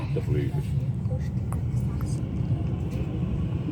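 An EasyJet airliner taxiing past after landing at Zurich airport gives a steady, close low rumble heard from a waiting bus, with voices over it.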